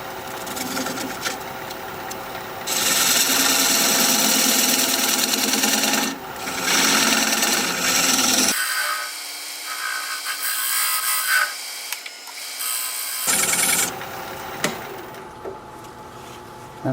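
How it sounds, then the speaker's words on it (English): On a wood lathe, a dovetail tool cuts into spinning cork wood from a tree, giving a loud, close scraping rasp that starts and stops, with a quieter stretch in the middle. "raise my tool rest a little bit so that I can use my dovetail tool."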